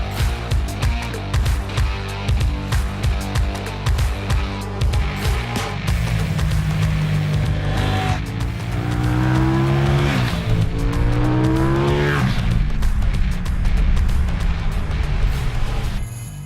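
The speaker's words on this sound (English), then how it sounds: "He's off to ride the 790 Duke." A KTM 790 Duke motorcycle engine revs and accelerates loudly through repeated gear changes, its pitch rising and falling in sweeping runs, close and continuous for the whole stretch without any talk.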